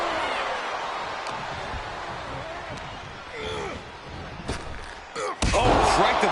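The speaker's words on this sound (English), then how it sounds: "Shot after shot, then slamming their face down." A wrestler slams an opponent face-down in Mortal Kombat Universe Mode, landing as a few sharp thuds near the end over a steady crowd roar and under a commentator's voice.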